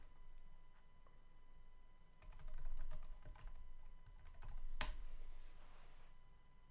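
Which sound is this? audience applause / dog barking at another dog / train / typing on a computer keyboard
typing on a computer keyboard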